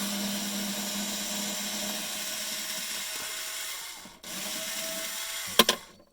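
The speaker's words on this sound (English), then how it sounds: "I prefer to use a little battery operated cordless screwdriver, which makes life a lot easier." A small battery-operated cordless screwdriver whirs steadily while backing screws out of a 2005 Hummer H2 center console, with a brief pause, a restart and a couple of sharp clicks at the end.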